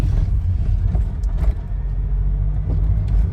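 A VW pickup accelerates hard on the road ahead, a loud low engine rumble building steadily under constant road noise, heard from a following car.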